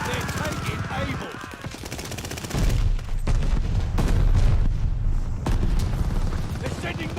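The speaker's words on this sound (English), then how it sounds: "They're sending mortar shells." Heavy gunfire and booming blasts roll through a Call of Duty Vanguard match, loud, dense and near, with rapid automatic fire early and deeper explosive rumbles that fit incoming mortar shells; a voice talks over parts.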